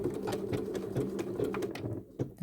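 A domestic sewing machine running a blanket stitch around a small appliqué shape, a fast, even mechanical whirring patter, close and moderately loud, pausing briefly near the end.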